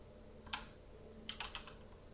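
A URL is typed on a computer keyboard in a few faint, quick key clicks, a single tap then a short burst of keystrokes, in a quiet room.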